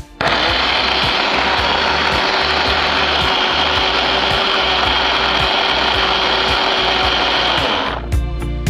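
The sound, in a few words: mixer grinding soaked poha into a paste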